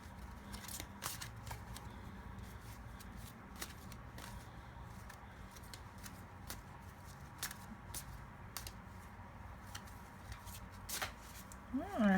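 Tarot cards shuffled by hand, soft riffling and papery slides repeating quietly at close range, with faint rustles between shuffles.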